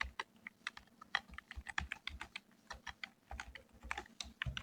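Keys clatter on a computer keyboard in irregular bursts of quick taps, close and fairly crisp, with short pauses between clusters and no voices.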